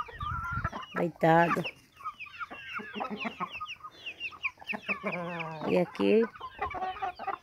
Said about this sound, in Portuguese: a minha criação de galinha